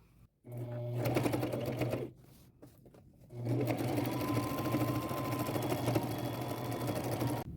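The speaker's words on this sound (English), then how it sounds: "I'm going to do another 1/8 of an inch seam or top stitch right down the pant leg" A sewing machine runs a top stitch down a jeans pant leg, humming steadily in two stretches with a short pause between, close and fairly quiet, with no talking.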